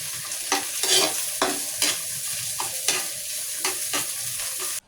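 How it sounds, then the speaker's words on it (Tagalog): A spoon stirs sautéed onion, garlic and lemongrass in a pan for beef tripe balbacua, making about ten rhythmic scraping strokes over a soft, constant sizzle close by. "I-continue uli natin yung paghalo."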